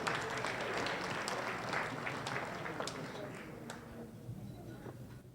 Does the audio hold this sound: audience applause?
yes